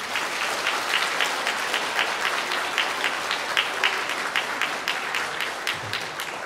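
Wedding guests in a hotel hall clap together on cue during the ceremony, a lively, sustained round of applause with distinct rhythmic hand claps standing out above the crowd noise throughout.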